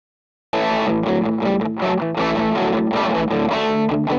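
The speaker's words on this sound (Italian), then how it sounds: "Con un doppio clic attivo un overdrive più medioso." Electric guitar run through a mid-heavy overdrive setting on a Morningstar MC6 PRO pedalboard rig, playing loud, continuous distorted chords and riffs with a thick, saturated midrange tone and no talking.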